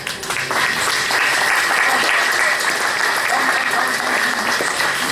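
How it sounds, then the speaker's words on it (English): Audience applause after a theatre performance of a Marx play, steady dense clapping filling the hall for several seconds without a break. "Let's please give your applause to my friends."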